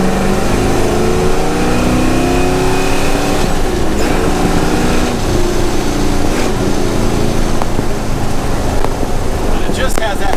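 A 1967 Chevelle SS V8 engine revs hard and loud throughout, rumbling with rising and falling throttle blips and a gritty, throaty growl.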